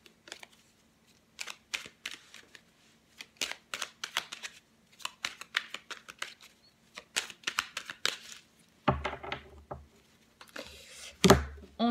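Tarot cards being shuffled and cut by hand, giving a run of crisp, rapid riffling and slapping bursts in quick clusters, with a few louder handling thumps near the end; close and clear, no talking.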